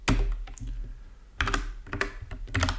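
COBOL code being typed on a computer keyboard, bursts of quick close clicking keystrokes separated by a short pause, with no talking.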